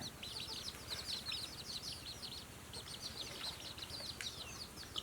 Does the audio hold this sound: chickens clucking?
yes